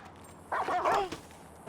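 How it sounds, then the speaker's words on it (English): A GTA 5 NPC's dog gives a short, moderate bark-whine of about half a second over steady background noise. "If you start fighting an NPC that has a dog, it will try to bite you and will protect its owner."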